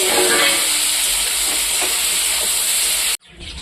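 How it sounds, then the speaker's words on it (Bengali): Chopped chicken meat frying in hot oil in a home kitchen, a steady close sizzle and hiss that runs evenly before cutting off abruptly near the end. "এই মাংস কুচিয়ে রাখা আমি ভেজে নিচ্ছি মাংসগুলো।"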